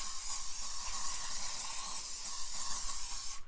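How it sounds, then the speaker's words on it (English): Hairspray mists onto small paper tags in one continuous, even hiss from an aerosol can, steady and close for several seconds before cutting off abruptly. "give them a light coating of hairspray on one side, let it dry, light coating of hairspray on the other"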